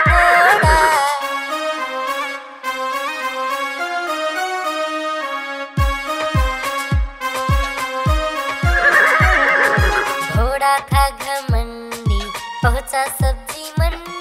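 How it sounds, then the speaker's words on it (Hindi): A horse whinnying twice, loud and drawn out, over a bouncy music track with a steady plucked rhythm in a Hindi nursery rhyme about a wooden horse. "दौड़ा दौड़ा दौड़ा घोड़ा दौड़ा दुम उठा के दौड़ा"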